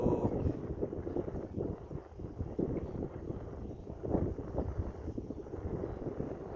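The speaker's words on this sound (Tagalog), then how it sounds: "malakas kasi yung hangin guys eh" Strong wind buffeting the microphone in low rumbling gusts, loud and continuous with no voices, in an open regional park in New Zealand.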